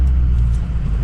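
A Ford F250 truck with a 6-inch McCoy's lift and a suspect transmission cruises through town, steady low engine rumble and road noise filling the cab without pause.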